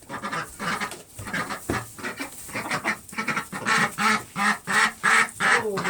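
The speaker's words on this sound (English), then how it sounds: "the females quack and the males go whack" Ducks quacking near a feeder at night, a loud series of repeated rhythmic quacks and raspy calls coming in quick bursts, close to the listener.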